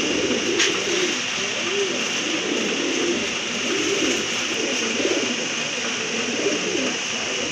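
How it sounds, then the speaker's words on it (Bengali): Brown-necked Giribaz pigeons coo in soft, repeated low calls over a steady background hiss, moderately close, with no talking. "মাশাআল্লাহ আরেক জোড়া কবুতর, খয়রা গলা কবুতর।"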